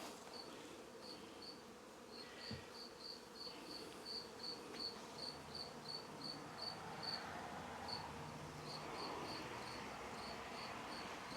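Honey bees from a newly hived swarm buzzing during a frame-by-frame inspection, a close, continuous droning hum with individual bees whining past, no talking.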